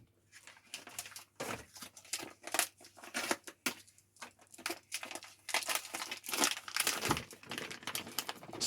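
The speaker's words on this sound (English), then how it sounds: "I'm going to open up these potatoes here" A plastic bag of potatoes is crinkled and torn open in a kitchen before cooking, giving bursts of loud crackling rustles that come and go, with brief pauses, close up and alone.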